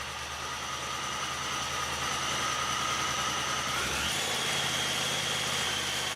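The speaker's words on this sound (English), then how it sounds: "Let's start it up and bring it to a high idle." A Honda Talon UTV engine runs at a steady high idle near the microphone, a continuous mechanical drone with a whining tone that shifts upward partway through.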